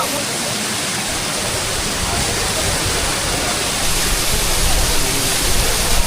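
Water pours steadily from a fountain in India, a dense continuous splashing rush that stays loud and even throughout, with no voices over it.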